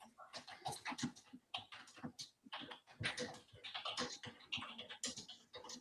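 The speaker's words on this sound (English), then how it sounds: "I hear somebody typing." Quick, continuous typing on a computer keyboard, with dense clicking keystrokes in an uneven rhythm, close to the microphone and fairly quiet, with no talk over it.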